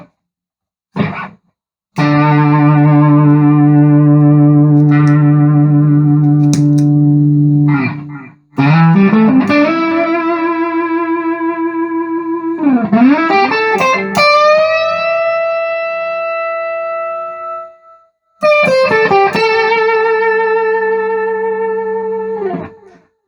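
Electric guitar with light, low-gain distortion playing sustained chords and sliding notes, loud and close, with brief pauses between phrases.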